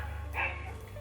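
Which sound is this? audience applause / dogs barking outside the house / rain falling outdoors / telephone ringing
dogs barking outside the house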